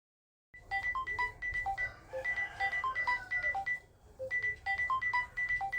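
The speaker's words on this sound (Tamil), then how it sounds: "ஸ்ருதிலாம் ஃபோன் பண்ற, ஆச்சரியமா இருக்கு." A mobile phone plays an incoming-call ringtone: a bright, repeating melodic pattern of short electronic notes starting abruptly after a moment of silence and cycling several times, clear and fairly close, with no talk.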